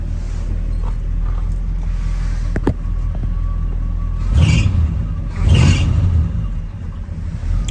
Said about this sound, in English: Truck sounds really good. It runs great.